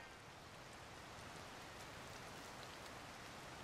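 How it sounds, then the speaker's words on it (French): Steady rain falls in the video game Zelda: Tears of the Kingdom, a dense, even patter that continues quietly without a break and with no voices over it. "Ah, chouette, il pleut."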